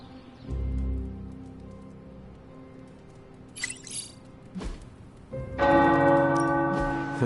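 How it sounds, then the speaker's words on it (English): Large video-game tower bells ring out, low resonant tolls at first, then a louder burst of clanging with bright overtones near the end. "The tower bells are ringing."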